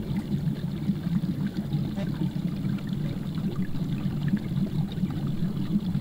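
Steady, continuous watery bubbling and churning from an aquarium in the video game Dying of Thirst, fairly loud and low-pitched, running without pause for the whole stretch.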